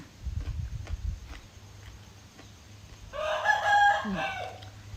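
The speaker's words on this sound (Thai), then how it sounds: "ได้ยิ่งเสียงไก่ขันบ่ทุกคนเพื่อน" A rooster crows loudly once, a long rising-and-falling call after a few seconds of low rumbling and faint clucks.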